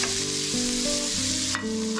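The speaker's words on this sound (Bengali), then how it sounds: "আমি এখন আবার একবার তেল দিয়ে দেব, এর মধ্যে আমি পেঁয়াজটা ভেজে নেব।" Onions frying in hot oil, a dense, continuous close sizzle with a faint steady tone running underneath.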